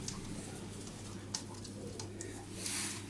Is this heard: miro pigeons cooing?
yes